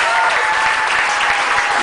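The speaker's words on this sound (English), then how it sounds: "please give me a round of applause one more time." Crowd at a comedy stage show giving a loud, dense round of applause, a continuous close roar of clapping with cheering voices mixed in.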